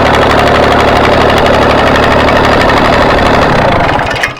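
A Massey Ferguson tractor engine runs just after a starter rebuild, with no muffler fitted: loud, close, continuous rough idle with a knocking pulse, then it cuts off near the end.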